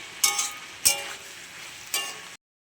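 Egg frying in a pan for an egg chow, a steady close sizzle broken by three sharp scraping stir strokes, with no voices.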